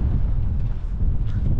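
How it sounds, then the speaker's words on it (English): Desert wind in Nouakchott, Mauritania, buffets the microphone in a loud, low rumble for a brief moment, with no other sounds. "It was so windy last night, and also is this morning."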